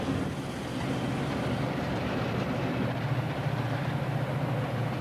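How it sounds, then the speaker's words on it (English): The Salad Bowl Express freight train rolls through the industrial Middle West, a steady low rumble of wheels and cars passing continuously, moderately loud and with no voices. "The Salad Bowl Express rolls through the heartland of the industrial Middle West."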